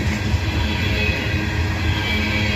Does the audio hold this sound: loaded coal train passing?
yes